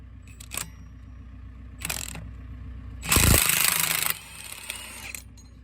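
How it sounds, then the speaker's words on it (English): An impact gun removes bolts on a farm, with short mechanical bursts followed by one longer, loud rattling whir of about a second, then lighter clicks, close up with no talk. "I'll take the bolts out with an impact gun."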